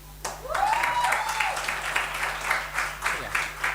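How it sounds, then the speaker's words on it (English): An audience at an official courtesy visit breaks into applause, a burst of clapping starting suddenly and continuing in uneven waves, with voices and a whoop mixed in. "I normally ask for a round of applause"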